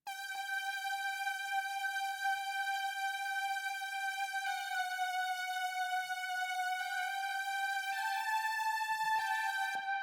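A Prophet 08 synthesizer plays a lead line, a sustained bright tone with steady pitch and several note changes, loud and continuous with no voices present.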